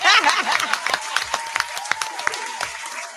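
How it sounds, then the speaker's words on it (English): Audience members at a Milwaukee comedy event clap loudly and close by, with sharp, distinct hand claps in a quick, uneven rhythm across the whole moment and no talking. "Let me clap for Coach My Growth."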